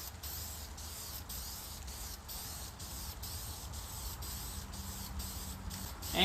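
Spray gun laying a red base coat onto a Ram truck, a steady continuous hiss running throughout at close range with no talk over it.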